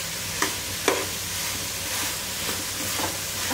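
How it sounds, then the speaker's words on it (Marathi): Mixed vegetables roasting with wet masala in a pan, giving a steady hissing sizzle with a couple of sharper stirring scrapes near the start, close and constant throughout. "आता हे आपण याच्याबरोबर थोडंसं भाजून घेणार आहोत मसाल्याबरोबर."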